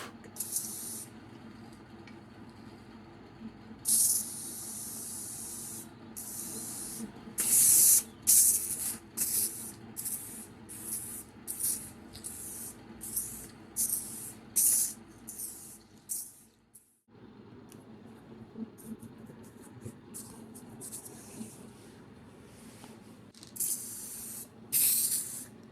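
Aerosol spray cans applying corrosion inhibitor and then black coating to Kawasaki Z550GT motorcycle parts, heard as many short and longer hissing bursts in an irregular rhythm, close and fairly loud over a low background hum.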